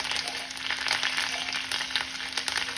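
Chana dal, curry leaves and green and red chili pieces roasting in hot oil for South Indian coconut rice give a close, steady hiss of sizzling oil that runs without a break.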